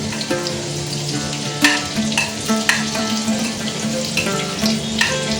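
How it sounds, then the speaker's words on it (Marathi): Garlic sizzles steadily in hot oil in a pan for a village-style sprouted moth bean curry, a constant close crackle with occasional clinks and scrapes of stirring. "लसूण टाकून घेऊया तेल गरम झाल्यावर।"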